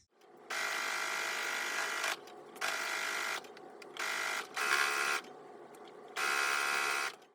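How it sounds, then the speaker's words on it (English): A sewing machine stitching the long edges of a fabric tote bag handle runs in several steady buzzing bursts, each a second or two long, with brief pauses between, close and prominent. "Then I'll go ahead to my sewing machine and sew down the 2 long edges."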